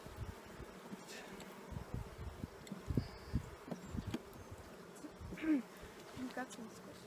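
Honeybees festooning in a hive during its second week, a faint buzzing hum with occasional louder passes of individual bees close by and faint voices in the background.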